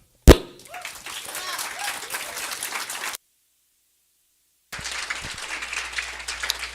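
Audience applause at a political forum for Colorado Secretary of State candidates, a steady broadband wash of clapping that starts with a sharp thump, cuts out for over a second, then resumes at similar loudness.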